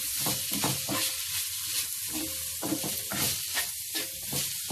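Peppers frying in a pan with parsley are stirred with a utensil, steady sizzling under a series of scraping, clattering strokes, close by.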